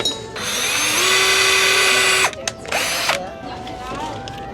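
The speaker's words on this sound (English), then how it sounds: "And then that's where we'll drill and then place the handles and then put in the screws." A power drill bores holes in a pegboard for handles, whining loudly for about two seconds, stopping, then spinning briefly again before winding down close by.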